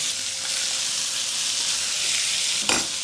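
Catfish and shallots sear in a hot pan, a dense, steady sizzle and crackle running the whole time, close and fairly loud, with a brief sharper clatter near the end.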